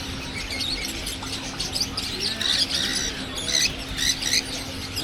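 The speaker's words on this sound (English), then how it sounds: "Loads of birds here." Many birds squawk and chirp at a busy market in Doha, Qatar, a steady overlapping chorus of harsh calls and coos at moderate distance, with occasional louder squawks nearby.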